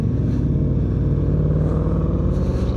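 A motorcycle engine idles and rumbles steadily up close on an autumn ride, a low continuous throb holding even for the whole stretch with no voices.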